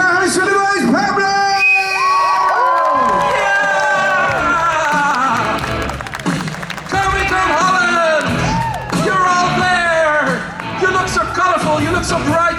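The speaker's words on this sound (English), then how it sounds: "Make some noise for our host for the most, Pablo!" A convention crowd at Comic Con Holland cheers, whoops and yells for the host, a loud, continuous roar with children's shouts mixed in that swells and dips over the whole stretch.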